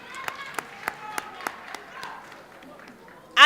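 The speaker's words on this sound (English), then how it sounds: "Clap hands for your academics." Scattered claps and a few sharp hand slaps from a graduation ceremony audience in Mthatha, spaced irregularly and fairly distant, ending with a loud voice cutting in.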